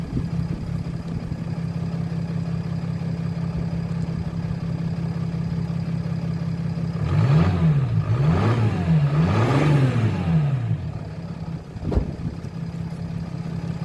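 A Chrysler 300C engine idles steadily, then revs up and down in three quick blips, loud and close, before settling back to idle with no one talking.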